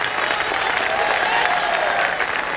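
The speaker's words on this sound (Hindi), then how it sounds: "मैं आपकी ताली से आज खुश हो सकता हूं," Audience at a Hindi political speech event breaks into dense, sustained applause, a steady wash of many hands clapping at even loudness throughout with no voices on top.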